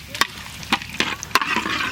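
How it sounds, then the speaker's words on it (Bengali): Whole spices such as bay leaf and dried red chilli dropping into hot mustard oil for Bengali dal tempering, giving a close crackling sizzle with sharp pops and stirring scrapes over a steady frying hiss. "ডালে ফোড়ন দেবো সর্ষের তেল"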